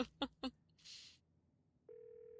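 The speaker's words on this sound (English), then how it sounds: "You pull out your phone and call." A phone being dialed for a call gives three quick electronic beeps, then a brief hiss, and finally a steady sustained tone, all fairly quiet.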